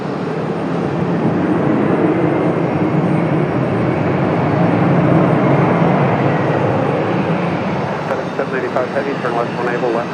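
A loud, sustained roar from an airplane engine fills the air as the plane takes off from runway 23 left at Raleigh-Durham International, a broad steady rumble heard at close range with faint radio chatter near the end.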